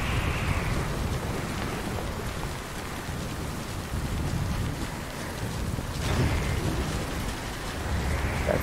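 Steady rain from the game Death Stranding, a constant wash of dense downpour with rumbling thunder underneath and a brief brighter gust around the middle, loud and continuous with no voices.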